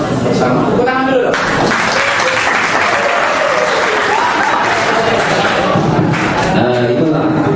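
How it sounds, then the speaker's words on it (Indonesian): Audience applause at a disaster-management seminar, steady and loud for the whole stretch, with voices and a few thumps breaking through the clapping. "Tepuk tangan dulu."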